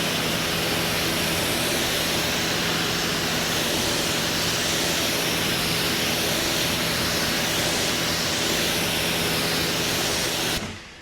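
Water spray rinsing a car after a wet-gloss protection coating has been applied, a steady loud hiss of the jet that runs throughout and stops at the very end.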